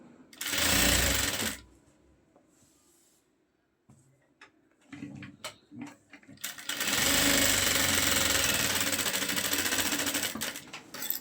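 Sewing machine running seams of half-inch stitching on folded buckram for a shalwar belt, one loud sustained burst at the start and a longer continuous run toward the end, with quieter handling noises in between.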